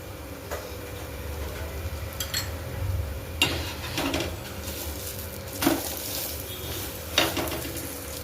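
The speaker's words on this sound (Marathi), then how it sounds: "दोन्ही साईडला आता तेल घालून मी भाजून घेणार आहे" Thalipeeth shallow-frying in oil on a pan, a low crackling sizzle broken by several louder bursts of spatula scraping and hissing as it is pressed and turned, with no talking.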